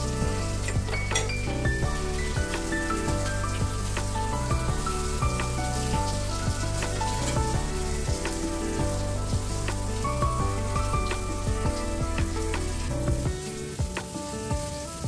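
Fish pieces frying in hot oil give a loud, steady sizzle that fills the whole stretch, with occasional clinks of a utensil against the pan and no talking.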